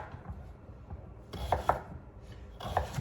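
A knife slicing vegetables for homemade soup on a board, with quiet light taps at first and then two louder bursts of close chopping strokes.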